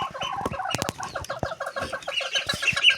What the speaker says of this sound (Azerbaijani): Baxın, toyuq gəldi.